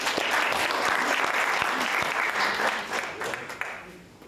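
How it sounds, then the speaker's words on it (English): An audience at a language revitalization breakout session applauds volunteers, with dense, steady clapping that gradually thins out toward the end. "Let's have a round of applause for our volunteers."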